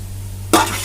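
Onions being stirred in a pan over a medium flame until golden for chicken biryani: after a quiet moment, a sudden loud sizzle and scrape of stirring bursts up close and keeps crackling.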